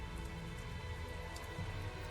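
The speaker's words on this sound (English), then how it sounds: "Must be all this rain we're having." Steady rain falls in the fantasy video game Tales of Zestiria, a soft, even patter of drops close by, hushed and continuous, with no voices.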